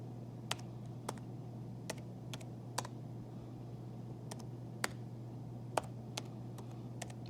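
Keys on a computer keyboard click in short, irregular bursts as equations are entered into Desmos, quiet and close, over a steady low electrical hum.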